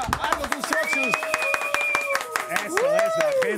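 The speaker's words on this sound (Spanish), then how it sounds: "Un aplauso para Argo Constructions." A crowd claps for a construction company at a live community music and comedy show: sharp, fairly close handclaps in a quick irregular rhythm, heard under excited talk and cheering voices.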